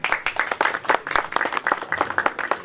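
Audience applause at a Telugu film release date press meet, a steady wash of many hands clapping, fairly loud and continuous for a few seconds with no talk over it.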